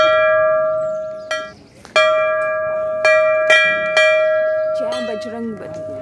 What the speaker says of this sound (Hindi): यहाँ पे आप देख रहे हो इतनी सारी घंटियाँ लोगों ने लगा रखी है